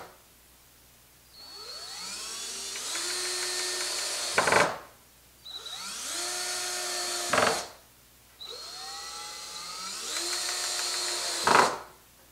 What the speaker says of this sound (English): I'm gonna start drilling these suckers in.